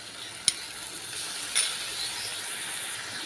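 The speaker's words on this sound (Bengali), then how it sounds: "এই সময় দিয়ে দেব সম্পূর্ণ এই বাটা মশলাটা" Ground spice paste drops into onion and tomato frying in hot oil, a soft steady sizzle punctuated by two brief clicks of a utensil against the pan, close and fairly quiet.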